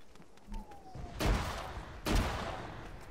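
Two heavy, booming blasts about a second apart, a frag grenade explosion and gunfire in a military video game, loud and close, each with a rumbling tail, over a quieter backdrop with a faint whistling tone just before.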